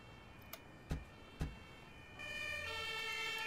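An ambulance siren in the Emergency 4 game sounds after a few faint thumps, its wailing tone starting partway through and continuing at moderate volume under a background hum, with no talking.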